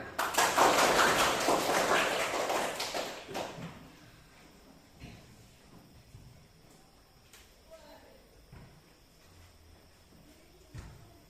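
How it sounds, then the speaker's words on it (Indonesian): Students in a school classroom during an Islamic religious education lesson clap their hands together in a loud, dense burst lasting a few seconds, then it quickly dies away, leaving quiet room noise and a few scattered taps. "Beri tepuk tangan."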